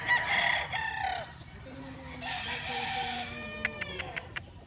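Dark Kelso raptor gamefowl rooster crowing in a long, loud, drawn-out call, followed by a second crow and a few sharp clucks near the end, close to the microphone with farmyard background.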